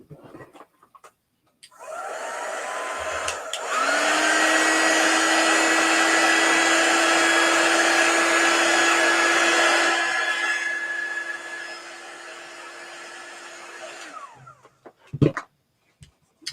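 A hair dryer blowing on chalk paste over a stencil: a loud, steady whirring roar that starts, steps up to a higher setting for several seconds, drops back, then cuts off with a click.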